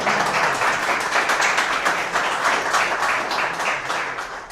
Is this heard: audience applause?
yes